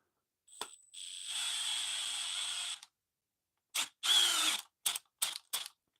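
Cordless power drill or driver running, a two-second high whine followed by several short bursts of varying length, close and loud against silence.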